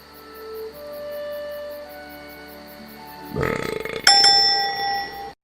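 A Woody Woodpecker cartoon burp rumbles in, loud and croaky, then a bright bell-like chime rings out and fades.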